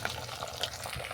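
Chopped onion frying in oil in a pan with garlic and ginger paste over bay leaf, cloves and whole spices, a steady close sizzle with light stirring throughout.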